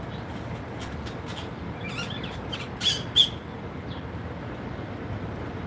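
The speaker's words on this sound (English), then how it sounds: "This bird is singing like crazy, isn't he?" A bird sings and squawks outdoors on a morning in Las Vegas, with a few sharp chirps and two louder squawks over steady background noise.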